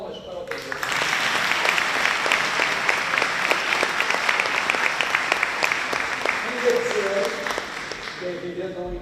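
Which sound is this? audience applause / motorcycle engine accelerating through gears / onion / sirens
audience applause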